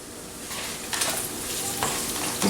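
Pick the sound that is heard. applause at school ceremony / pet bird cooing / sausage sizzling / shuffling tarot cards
sausage sizzling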